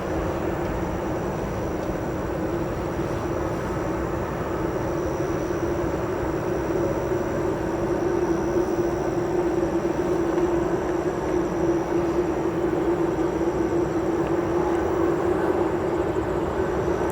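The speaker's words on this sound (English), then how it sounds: "This Sun Country Airlines aircraft that will be coming in" A Sun Country Airlines jet arrives at O'Hare Airport, its engines a steady, broad roar with a sustained tonal whine, heard from a distance without any voices.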